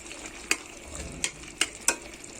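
Garlic sizzles softly in a pan for a Turkish green bean dish with roasted pepper and tomato sauce, while a utensil taps the pan four times, sharp and close.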